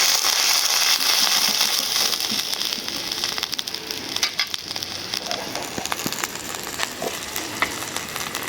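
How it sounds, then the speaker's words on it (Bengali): Onions frying in a pan until browned, giving a steady broadband sizzle with crackles and spatters throughout, loud and close, no voices. "পেঁয়াজ একদম লাল করে ভেজে নিলাম"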